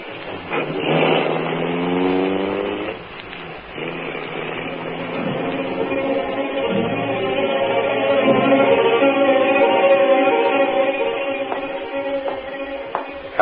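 Radio-drama car effect: an engine starts and revs, the pitch sweeping upward as the car pulls away, then settles into a steady mid-range drone that carries on evenly, with no voices over it.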